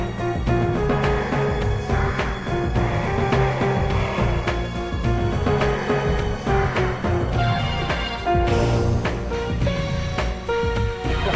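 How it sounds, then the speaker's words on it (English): GoldenEye 007 game music plays with a prominent low bass line driving under dense layered synth melodies, steady and loud throughout with a brighter shift near the end. "Listen to the bass line there."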